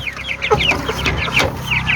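Young chicks in a coop, skittish and newly given deworming water, cluck and cheep in quick repeated bursts, close to the listener and alone without any talk.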